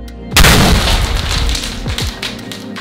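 A loud booming pop from a popcorn machine bursts out as a bag tears, followed by rumbling and a few lower thuds as it settles.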